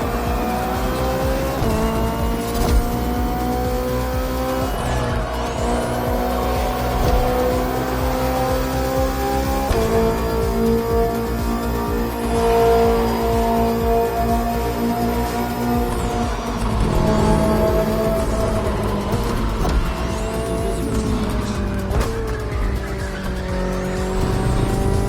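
BMW M Hybrid V8, a 2023 endurance race car built for events like Le Mans, roaring loudly and steadily with engine pitch rising and dropping through gear changes and occasional tire squeal, no voices.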